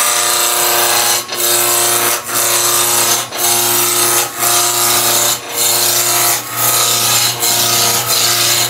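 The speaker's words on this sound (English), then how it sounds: "Now I'm going to go to a roughing gouge now." A roughing gouge cuts a large wooden blank spinning on a lathe while turning a Christmas nutcracker, making a loud, continuous rasping roar broken by short regular dips about once a second as the tool moves along the wood.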